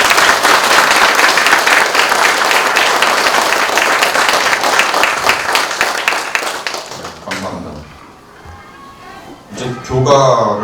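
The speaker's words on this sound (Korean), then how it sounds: "박수로 다시 한번 축하해 주시기 바랍니다." An audience at an honorary doctorate degree ceremony applauds with loud, dense clapping for about seven seconds, which then fades out. A few scattered claps and voices follow.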